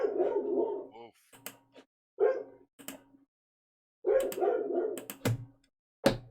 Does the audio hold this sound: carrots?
no